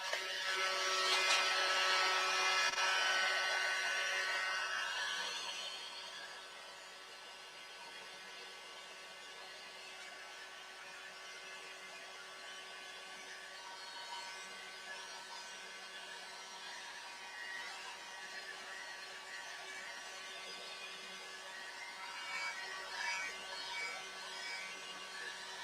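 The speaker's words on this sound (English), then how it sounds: "I'm going to dry off the paint again." A hair dryer blows steady broadband air noise over freshly applied textured paint, loud in the opening seconds and then settling into a quieter continuous whir with a slight rise near the end.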